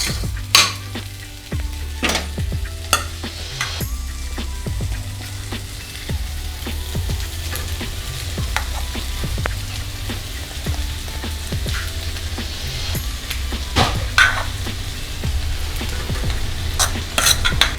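Rice stirred in a pan with a spiced egg mixture gives steady sizzling frying and frequent sharp scrapes of the spoon against the pan, close and continuous for many seconds.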